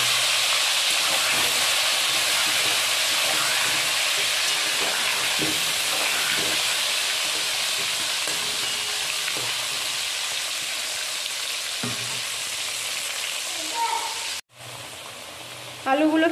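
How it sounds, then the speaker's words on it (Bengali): Potato pieces coated with salt and turmeric frying in hot oil, a steady close sizzle and hiss that continues throughout with faint clatter and a brief break near the end. "আলুগুলো কি সুন্দর লাল লাল করে ভাজা হয়ে গেছে।"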